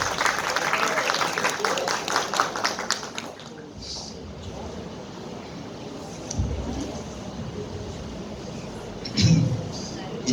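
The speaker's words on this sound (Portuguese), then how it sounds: "Pedimos uma salva de palmas para recebê-la." An audience claps to welcome Professor Iná Isabel, an Amazon researcher and writer, to the table at a lecture; dense applause for about three and a half seconds, then it fades into quiet room murmur.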